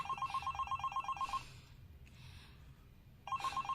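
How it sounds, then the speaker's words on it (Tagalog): A cellphone rings in a fast trilling pattern, stops for a couple of seconds, then starts again. It sounds close and clear in a quiet home, with no talking. "Kay kung mutingog man ang iyang cellphone, nagsigi og ring, oh."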